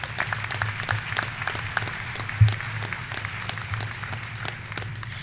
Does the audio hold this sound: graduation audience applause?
yes